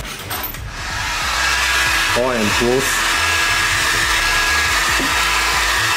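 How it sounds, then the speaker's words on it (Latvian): A hair dryer blows with a steady, loud whoosh while a Nissan S13 race car is assembled and glued in a workshop; the airflow builds up in the first second and then holds, and voices speak briefly over it. "Kas tagad ar fēnu?"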